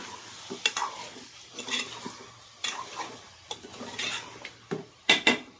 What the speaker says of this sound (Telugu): వేసిన తర్వాత ఇలా తిప్పేసి